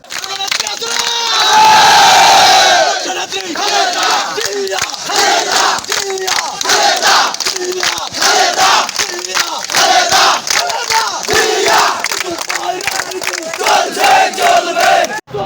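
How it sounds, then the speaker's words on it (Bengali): A protest march crowd in a town, calling out slogans in loud, rhythmic bursts that repeat steadily and fill the space from start to finish, loudest near the beginning. "গণমিছিলটি বিভিন্ন স্লোগান দিয়ে শহরের গুরুত্বপূর্ণ সড়ক প্রদক্ষিণ করেন"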